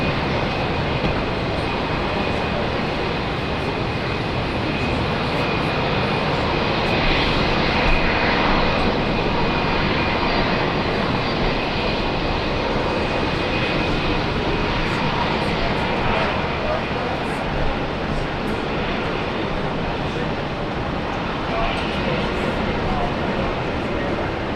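A jet airliner roars down runway 19 right on its takeoff run at Brisbane International Airport, a loud, steady, broadband engine rush lasting throughout with a faint whine, and voices talking over it.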